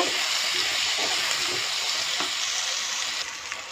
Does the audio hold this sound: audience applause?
no